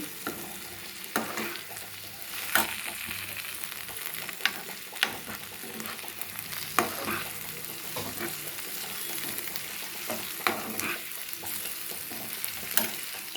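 Lentils bubbling and sizzling in a pan after a spice tempering, a continuous soft frying hiss broken by repeated scrapes and clinks of stirring, fairly close and quiet, with no talk.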